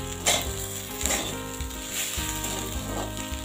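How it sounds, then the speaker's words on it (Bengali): Broken wheat is stirred with coriander and cumin powder in a hot pan, producing a close, moderate sizzle with repeated scraping strokes and no speech. "এবার সমস্ত মশলা ডালিয়ার সাথে খুব ভালো করে মিশিয়ে দেব"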